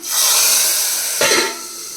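Hot tempering with asafoetida poured into a simmering amaranth-leaf tamarind stew, a loud sustained hiss with a brief sharper burst of sizzle partway through before settling to a quieter steady hiss.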